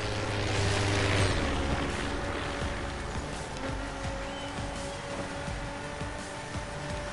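Truck engine droning steadily while driving in the racing video game The Crew, a loud continuous rumble with road noise and a brief surge near the start.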